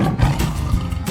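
A deep, loud tiger roar from a 3D animal video game fills the moment with a rough, growling rumble and no speech.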